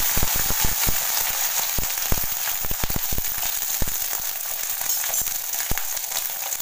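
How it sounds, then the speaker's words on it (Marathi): Green chilies sizzle and crackle in hot oil in a kadai, a steady, close frying hiss punctuated by sharp pops and spits throughout, with no talking. "आता आपण ह्या ज्या मिरच्या धुवून ठेवल्यात त्या तेलामध्ये टाकणार आहोत"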